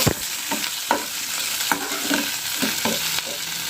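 Tomato, green chili and curry leaves fry and get stirred in a pan for semiya upma, a steady close sizzle broken by repeated scraping stirs at a brisk, uneven rhythm, with no voices.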